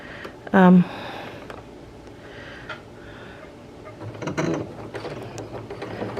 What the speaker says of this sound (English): So I'm gonna sew it pretty close to the edge there.